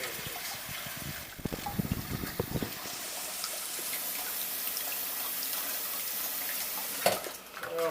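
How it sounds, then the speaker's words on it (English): Tap water runs into a pan for boiling potatoes, a steady hiss and splash with some clinks and handling noises, continuing fairly quietly for several seconds. "And we'll just fill hot with water and bring that to a boil for the"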